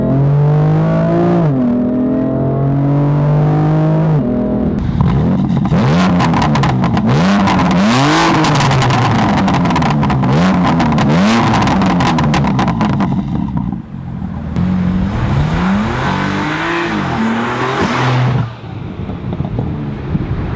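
A BMW M4 LCI Competition Package engine revs hard and close, with repeated rising and falling throttle sweeps over a rough idle, some wind buffeting, and a brief lull before a final burst.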